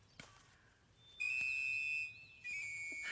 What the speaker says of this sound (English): Basil taught Wilfred to play the whistle.